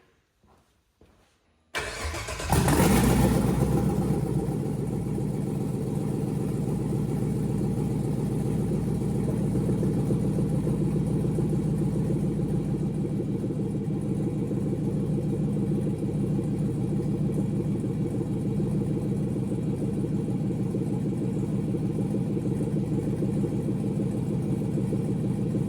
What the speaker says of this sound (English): we're going to fire it up now and we're going to leave it idling